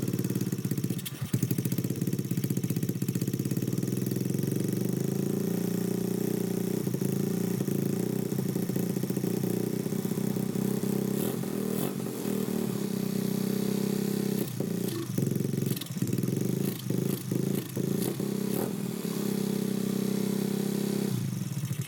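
A Chinese Grom clone motorcycle engine runs steadily at idle, loud and close throughout, with a continuous low rumble, mechanical clatter and occasional small dips and uneven stumbles.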